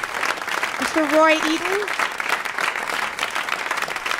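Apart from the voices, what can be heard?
audience applause at concert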